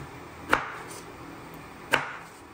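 A knife chops through jackfruit on a board, two sharp, close thuds spaced over a second apart against a quiet background.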